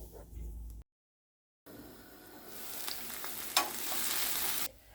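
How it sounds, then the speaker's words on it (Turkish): Steady sizzling of onion and minced meat frying in a hot pan, with a soft crackling hiss that builds after a brief silent gap. "Üzerine 300 gram kadar kıymamı ekleyip birlikte kavurmalarını sağlıyorum"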